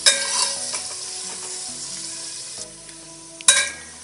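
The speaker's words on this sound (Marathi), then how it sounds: "कांदा आपला चांगला परतून झालाय गुलाबी" Onion frying and being stirred in a pan for mutton biryani, a close steady sizzle broken by a few sharp scraping stirs, with no talk.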